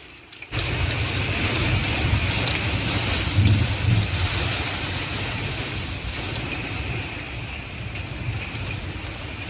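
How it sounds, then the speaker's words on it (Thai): Heavy rain and gusting wind pound a motorhome in Alpine, Texas, a dense, continuous hiss and drum that starts abruptly and holds steady, close and fairly loud, with no voices. "ก็นี่แหละค่ะคือชีวิต ในรถบ้านในวันที่ฝนตกหนักๆนะคะเพื่อนๆ"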